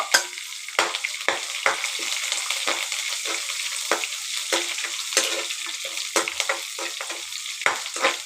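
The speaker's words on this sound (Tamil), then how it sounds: "அதோட காஞ்சி மிளகா போட்டுக்கலாம். 2 கறிவேப்பிலை போட்டுக்கலாம். நல்லா சவுண்டு வரட்டும்." Dried red chillies and curry leaves crackle in hot oil for a brinjal dish, a close, loud sizzle with repeated sharp spattering pops and stirring throughout.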